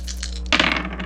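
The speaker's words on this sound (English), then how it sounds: "I'm going to roll the dice today and see what comes up." Dice are rolled for a zodiac reading, landing with a sharp clattering rattle on a hard surface midway through and settling in quick diminishing clicks over a steady low hum.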